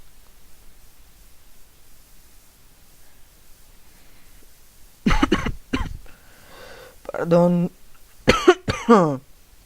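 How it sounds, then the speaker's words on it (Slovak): A person with a cold coughs a few times in quick bursts, close and fairly loud, then clears their throat, after a quiet stretch of faint background hiss. "som dneska nejaký chorý. Ako kašlem."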